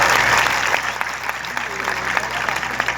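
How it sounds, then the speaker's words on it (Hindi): Audience applause at a martyrs' honour ceremony in Seoni Malwa, a steady dense patter of many hands clapping throughout with some crowd noise and faint voices mixed in. "तो फिर एक बार तालियां बजाएं"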